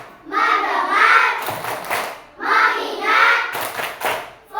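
A classroom of students joins in the rhythmic clapping of a tepuk fokus chant, with bursts of quick claps between chanted voices, close and lively.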